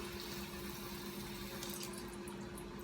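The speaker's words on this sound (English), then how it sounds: "let me pour some of this oil in here" Cooking oil poured into a pan, a faint steady liquid trickle heard close up under low room noise for a few seconds.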